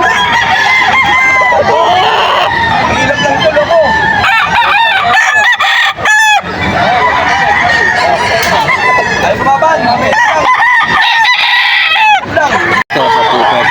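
Kelso stag roosters at a poultry gathering in Bocaue, Bulacan crow loudly and repeatedly, several overlapping calls with clucking between them, while someone talks nearby.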